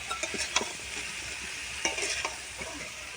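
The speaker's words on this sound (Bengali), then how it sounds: "এইভাবে শ্যামলাটা নেড়ে নেবে শ্যামলা চিংড়ি" Water lily stems and shrimp with turmeric being stirred in a hot pan: a steady sizzle with repeated scraping and clinking of a spatula against the metal, close and continuous.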